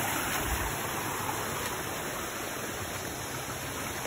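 Water flowing from its source at a spring or stream near Barangay 3, a steady, broad rushing and gurgling like a small waterfall, continuous and fairly close, with no voices.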